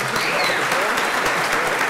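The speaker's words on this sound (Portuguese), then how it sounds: "Mais uma salva de palmas." Steady, dense applause from an audience at a formal anniversary ceremony honoring Parque Atheneu, continuous and fairly loud throughout with no pauses.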